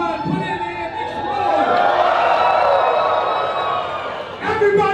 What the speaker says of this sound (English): Everybody in the crowd, make some noise